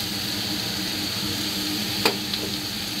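Cabbage hits a hot pan of salmon, fish ball and chicken sausage for fried rice, giving a steady close sizzle. A sharp clack of a utensil sounds near the end, with a fainter tap just after.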